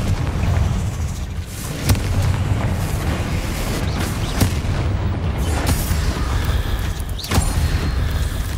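In the game Hogwarts Legacy, a Confringo blasting spell sets off a heavy rumbling roar of explosive noise that fills the whole stretch, punctuated by several sharp cracks and booms.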